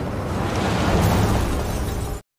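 In a film scene, gas leaking from pipes along a building corridor ignites, and the building explodes in a loud, sustained roaring blast that swells and holds before cutting off abruptly.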